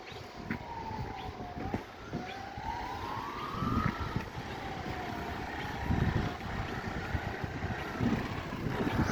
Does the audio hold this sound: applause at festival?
no